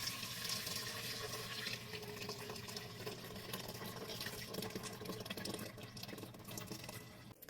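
Liquid pours into an Instant Pot for Greek yogurt, a steady faint splashing trickle that runs unbroken for several seconds and then tapers off near the end.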